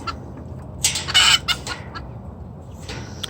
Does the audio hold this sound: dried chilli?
no